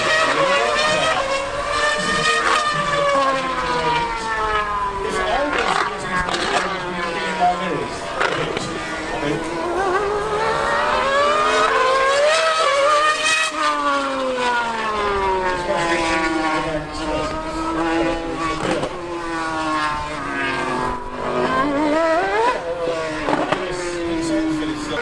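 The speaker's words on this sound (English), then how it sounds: "We're going to try and do a bit of a drag race and, you know, see how it goes. Yamaha Superbike versus AMG 2016." Mercedes-AMG 2016 Formula 1 car and Yamaha R1M superbike drag racing, loud high-revving engines screaming continuously with rising and falling gear-shift sweeps throughout, close and dominant.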